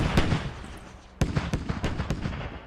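A mortar technical fires in the tactical shooter game Squad, a mounted mortar on a vehicle. Several sharp, booming reports come in quick succession after a brief lull, loud and close.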